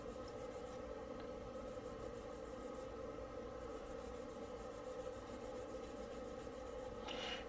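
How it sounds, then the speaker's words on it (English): Steady, close rasping of a skinny sanding stick on a small plastic Gundam Astray Red Frame model kit part, even and continuous through the clip, with a slightly brighter scrape near the end and no talking. "So I'm going to take my skinny stick and I'm going to sand it down a little bit."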